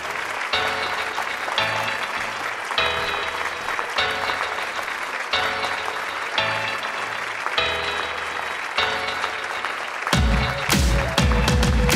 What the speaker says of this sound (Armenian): այնպես որ ծափահարենք և հրավիրենք Սյուզիին տաղավար